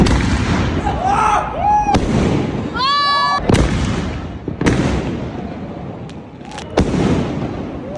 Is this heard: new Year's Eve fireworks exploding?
yes